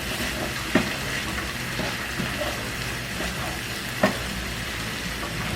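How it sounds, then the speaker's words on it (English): A food mixture held together with breadcrumbs is stirred in a sizzling frying pan, a steady close sizzle with occasional scrapes and knocks of the utensil against the pan. "Let's stir this around a little bit."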